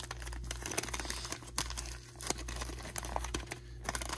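Wax packs of 1983 Star Wars Return of the Jedi trading cards being opened up close, with crisp crinkling and tearing of waxed paper in irregular bursts over a steady low hum.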